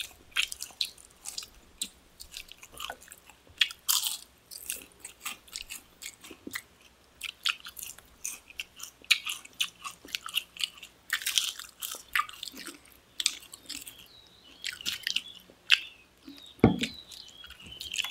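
Close, crunchy biting and wet chewing of food during a Filipino mukbang of ginabot, lumpia, ngohiong, hotdog and longanisa come in irregular bursts, with a soft drip of water and no talking.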